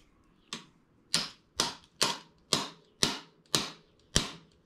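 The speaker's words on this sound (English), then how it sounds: "give it a little tap with a hammer to break everything free" A hammer taps a RockShox bicycle fork's lower leg free during a service, making seven sharp, evenly spaced metallic knocks that are loud and close, with no talking.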